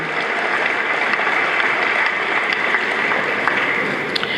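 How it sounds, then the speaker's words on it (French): Women in a large outdoor gathering at Nkamba applaud men who supported women, a continuous wash of distant crowd clapping without a break. "Si les femmes peuvent applaudir pour les hommes qui ont toujours soutenu les femmes"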